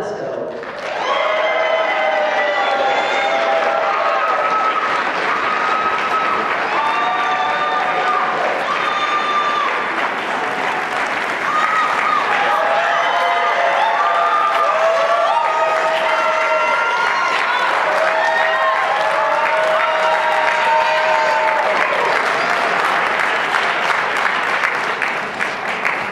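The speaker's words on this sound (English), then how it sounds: "So please make some noise to help me welcome our amazing and indomitable festival" An audience at a film festival performance applauds and cheers to welcome a performer, with loud, sustained clapping and whoops from a large crowd throughout, and voices shouting over it.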